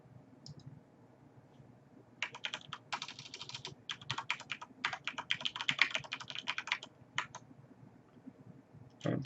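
Someone types a password on a computer keyboard during a vCenter lab setup: rapid bursts of close, crisp key clicks over several seconds with short pauses, no talking.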